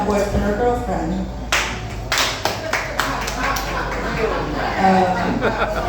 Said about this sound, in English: Clap if you're married